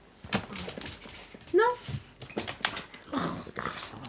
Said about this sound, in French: Excusez-moi pour mes chiens.